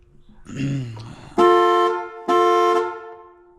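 A Dodge Challenger's car horn blares twice in long, loud blasts, following a brief muffled voice-like sound at the start.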